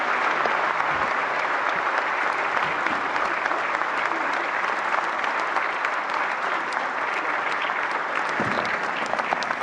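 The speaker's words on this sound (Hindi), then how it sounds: "जोरदार तालियों से स्वागत करें देश की राष्ट्रपति माननीय द्रौपदी मुर्मू जी का।" A large audience at the National Film Awards ceremony claps loudly and continuously to welcome the President, a thick, even roar of hands with no pauses.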